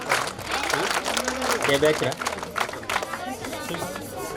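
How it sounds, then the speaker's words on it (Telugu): An audience at a retirement felicitation ceremony claps for a student from Hindupur, the crowd applause rising and falling for several seconds under and around loud speech from a man at the front. "క్లాప్స్ కొట్టండి"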